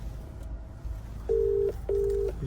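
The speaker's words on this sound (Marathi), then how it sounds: "आता आपण सोन्याला लावतोय फोन." Two steady telephone ring-back tones sound in a row after a brief dialing click, as a phone call is placed from inside a car; the tones are clear against quiet background noise.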